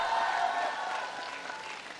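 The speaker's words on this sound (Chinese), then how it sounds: "来，我们掌声欢呼声送给唐汉孝、" A studio audience at a televised singing competition applauds after a duet performance, a moderately loud burst of clapping and crowd noise that slowly tapers.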